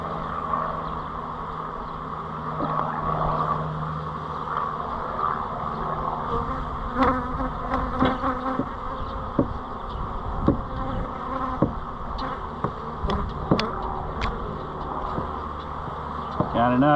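A honey bee swarm hums steadily inside a swarm trap, a dense close buzz with individual bees passing near, while a person talks over it.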